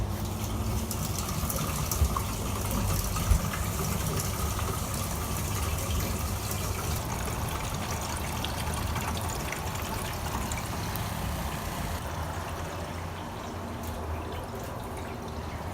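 Water rushing into a home water treatment system as it is charged up, a steady continuous gushing and filling flow heard close and alone.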